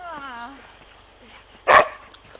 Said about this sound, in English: This dog is awesome.